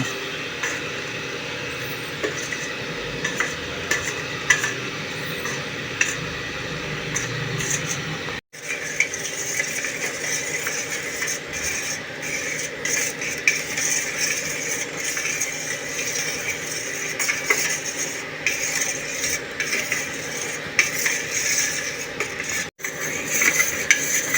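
Leche flan ingredients are stirred slowly in a bowl. A steady run of gentle scraping and clinking from a utensil goes on close by for over twenty seconds.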